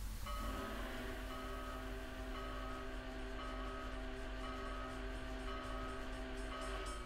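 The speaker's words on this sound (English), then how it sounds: "blow your last long whistle through the crossing grade" The steam whistle of the SP&S Northern 701 locomotive sounds at a grade crossing on Marias Pass in Train Simulator 2017, with steady multi-tone blasts held over the constant rumble of the moving train.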